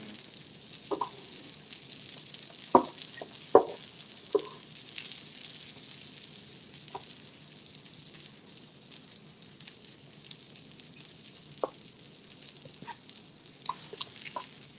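Sausage frying in butter in a pan, giving a steady quiet sizzle with a few sharp clicks and light utensil knocks scattered through, and no talking.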